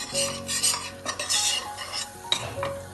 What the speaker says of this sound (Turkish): Şöyle dolu bir yemek kaşığı unumuzu kavuruyoruz.